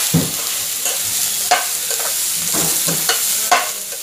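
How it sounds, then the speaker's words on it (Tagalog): White onion is sautéed in a pan for tofu sisig, a loud close hiss of frying with recurring stirring scrapes and soft knocks of the spatula. "igigisa muna natin ang puting sibuyas"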